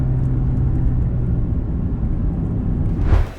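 A Mercedes-AMG A35 driven on Sepang Circuit, heard as a loud, steady engine and road rumble from inside the car, with a brief surge near the end.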